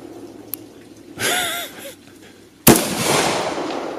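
Two loud, sharp gunshots from an AR rifle fitted with an American Trigger Corp AR Gold Trigger, outdoors, spaced about a second and a half apart, each followed by a ringing echo tail.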